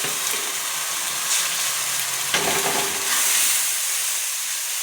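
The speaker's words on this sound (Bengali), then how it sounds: "পেঁয়াজ বাটা আর রসুন বাটাটা একসঙ্গে দিয়ে দেবো। দিয়ে সুন্দর করে মশলাটা কষিয়ে নেব" Onion and garlic paste frying in a pan with spices, a steady close hiss and sizzle throughout with a brief stir-like burst partway through.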